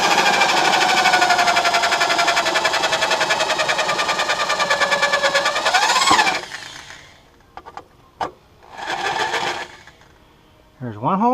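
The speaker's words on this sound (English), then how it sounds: "drill a couple holes real fast" Drill bores into a tough metal plate on a 1968 John Deere 3020 tractor, a loud, close, whining buzz for about six seconds that stops, then a few short revving bursts follow.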